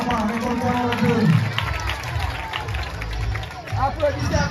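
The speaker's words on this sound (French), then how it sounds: "Applaudissez, applaudissez." At a school excellence day ceremony in Diawara, an audience breaks into scattered clapping for a student, the patter building under someone speaking loudly and murmuring voices from the crowd.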